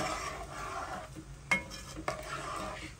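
Herring rougail being stirred in a pot as it comes to the boil, with soft scraping and gentle sizzling throughout and two sharp utensil knocks against the pot partway through.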